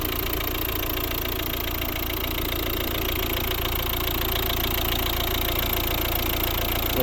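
A 2011 Volvo V60 with a 1.6-litre diesel engine idles with a steady, continuous rumble and a faint knocking clatter, close and loud with no pauses.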